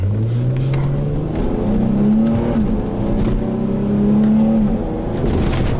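An Infiniti G35 Coupe engine revs loudly up close, its pitch climbing and dropping in repeated surges with no pause.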